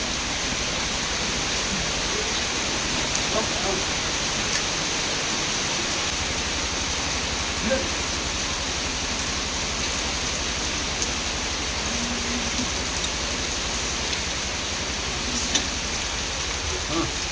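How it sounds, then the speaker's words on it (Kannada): Steady rain hisses evenly throughout, a dense wash of falling water with faint patters and occasional distant voices underneath. "ಮಳೆ ಬೇರೆ ಬರ್ತಾ ಐತೆ"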